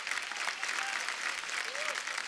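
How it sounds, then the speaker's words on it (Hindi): A studio audience on a TV comedy talk show applauds four guests after their dance, a steady, dense wash of clapping that holds at an even, moderate level for the whole stretch. "हमारे चारों मेहमानों के लिए जोरदार तालियां हो जाएं।"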